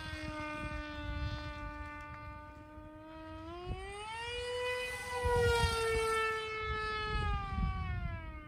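The motor of a Crash Test Hobbies Widowmaker RC plane whines near full throttle, a strong tonal buzz that climbs in pitch midway and holds high, with wind rumble underneath.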